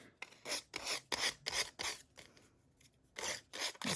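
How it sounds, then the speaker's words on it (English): Rhythmic rasping strokes of an emery board, about eight quick back-and-forth rubs, close and fairly quiet with a short pause midway. "Just sanding it away."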